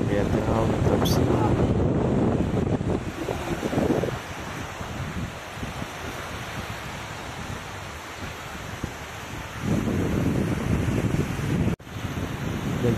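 Sea waves wash onto the shore at Baco, Oriental Mindoro, their surges rising and falling under strong wind buffeting the microphone, with a louder rush near the start and again near the end.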